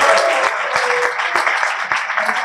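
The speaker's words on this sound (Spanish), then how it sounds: "Un aplauso." Audience at a gastroenterology association conference applauding, a steady, moderately loud clatter of many hands clapping without pause.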